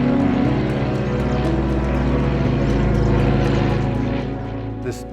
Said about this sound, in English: This particular aircraft, it's a Cessna 206.